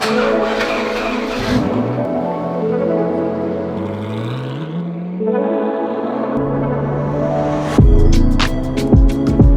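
A loud car roars close by with a rising, revving engine tone that shifts pitch, then breaks into sharp squealing bursts near the end.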